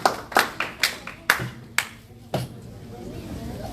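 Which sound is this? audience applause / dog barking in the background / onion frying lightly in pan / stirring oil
audience applause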